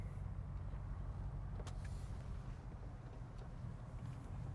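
A 700-plus horsepower BMW M550i cruises with a loud aftermarket exhaust, giving a steady low engine rumble and road roar heard from inside the car with the windows down, fairly constant and unbroken throughout.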